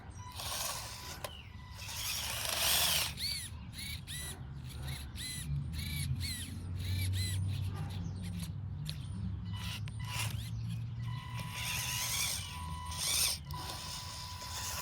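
The high-torque servo of an RC Bobcat T590 conversion whines faintly in short repeated bursts as it shimmies to break up dirt outdoors, mixed with scraping and occasional distant crow-like calls.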